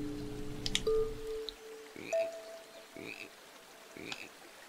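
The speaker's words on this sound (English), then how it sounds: "There's a frog?" Frog croaks in the relaxing hidden-object adventure game Wind Peaks, several short calls spaced about a second apart over a quiet ambient music bed, fairly faint and with no talking.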